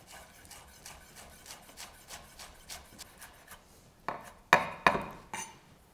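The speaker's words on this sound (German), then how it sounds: "Also ich schneide gerade bei Petersilie einfach grob drüber." A chef's knife roughly cuts parsley on a board with a series of soft rhythmic chopping taps, ending with a few louder, sharper knocks of the blade hitting the wood.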